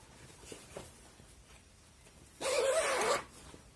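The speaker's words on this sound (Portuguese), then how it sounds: "E você sobe, ó, o zíper fica perfeito" An invisible zipper is pulled up along sewn fabric in one quick, loud, close zip of under a second, following a few soft fabric rustles.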